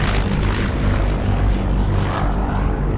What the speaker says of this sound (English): The rumble of engines, distant at first, grew louder.